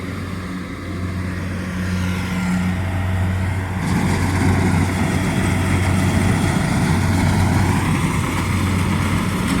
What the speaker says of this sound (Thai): นี่ที่รถไถจมตรงนี้เลยครับ